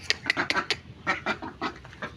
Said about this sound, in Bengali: এখন খাবার দিছি, হাঁসগুলো চলে আসছে খাবার খাওয়ার জন্য